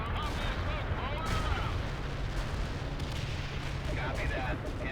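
Heavy artillery barrage in World in Conflict, a real-time strategy game set in Seattle: a dense, continuous roar of shelling and rumbling blasts, loud and sustained throughout, with scattered crackling detonations and game voice chatter mixed in.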